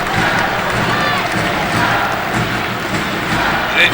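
Crowd cheering at a 2007 Wichita State Shockers at Bradley Braves college basketball game, a loud, steady roar filling the arena throughout, with no clear breaks.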